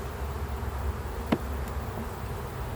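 Honey bees hum around an open beehive as it is being put back together, a continuous low buzzing swarm with one insect briefly flying close past, no talking.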